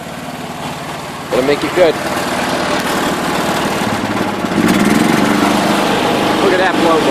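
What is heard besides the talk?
Kohler K241 engine running on John Deere 210 tractor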